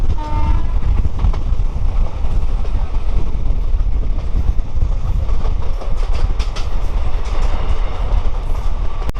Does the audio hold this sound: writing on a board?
no